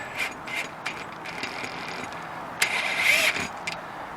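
Small cordless driver tightens bolts on a rooftop mount for Enphase IQ8+ microinverters. Several short mechanical whirring and ratcheting bursts sound close by, the last one longer and louder.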